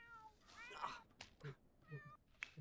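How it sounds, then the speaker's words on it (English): A cat meows several times in quick succession, with drawn-out, tonal cries that are close but faint and separated by short gaps. "I hear the cat."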